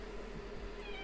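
Faint kitten meows drift through a steady low background hum, quiet and a little distant, with no voices.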